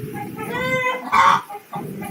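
Chickens in front of a house cluck loudly and close by, with a louder burst of clucking midway over a steady rustle of background noise.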